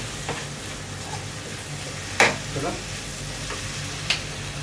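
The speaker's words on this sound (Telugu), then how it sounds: "మసాలా వేసి బాగా మసాలా ఫ్రై చేసిన తర్వాత మళ్ళీ కూర వేస్తాం" Masala with tomato and onion frying in a pan for a dried meat curry, a soft steady sizzle under a couple of sharp scraping knocks from a stirring spoon.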